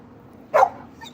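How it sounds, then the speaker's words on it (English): A dog indoors gives a single short, sharp bark, fairly close and loud against a quiet background. "And yes, I have dogs, so bear with me. They're all loud right now."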